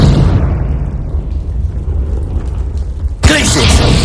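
Confringo explosive spell in Hogwarts Legacy: a heavy rumbling blast that decays, then a sharp bright burst near the end, with a voice briefly audible.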